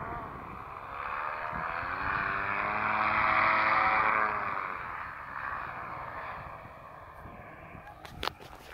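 A paramotor's propeller engine drones overhead at the Salton Sea, swelling as it passes close and then fading away, its buzzing pitch sliding downward.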